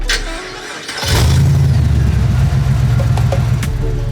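A car engine cranks and catches at about one second, then settles into a loud, steady low rumble with a slight rev, close by and with no talking over it.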